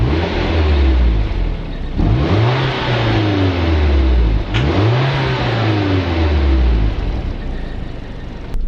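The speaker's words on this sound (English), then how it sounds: "let me go ahead and get some ref exhaust clips for you guys real quick" A Nissan 240SX revs hard several times, its engine climbing and dropping in pitch through a loud exhaust that fills the clip, with no talk over it.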